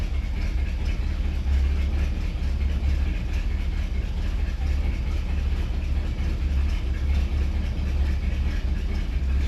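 An old engine idles rough and skips, a loud, steady low rumble with an uneven throb that carries on without a break, close and dense, and no voices are heard over it.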